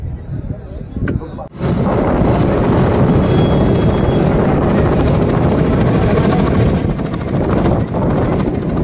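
Loud, continuous rotor roar of a helicopter close overhead showering flowers at the Tejaji temple in Kharnal, a dense whooshing drone that holds steady throughout after a brief quieter moment.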